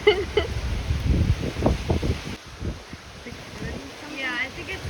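Strong hurricane wind during Hurricane Ian gusts and roars near the microphone, buffeting it in uneven bursts, with brief speech-like sounds mixed in.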